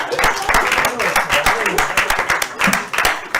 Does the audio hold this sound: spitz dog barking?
no